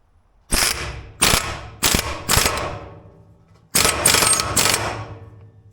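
Ratcheting on a nut of a New Holland skid steer hydraulic cylinder, six loud close bursts of rapid metallic clicking in two groups, with no talk.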